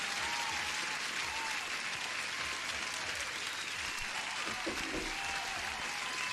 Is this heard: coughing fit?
no